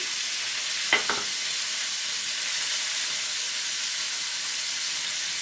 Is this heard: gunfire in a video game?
no